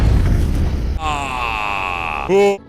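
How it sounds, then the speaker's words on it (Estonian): A video game explosion in a Sonic mod of GTA 5 gives a rumbling blast that fades into a lingering tonal ringing, followed by a brief loud burst near the end. "tundub, et ta ei suutnud sellele plahvatusele vastu panna"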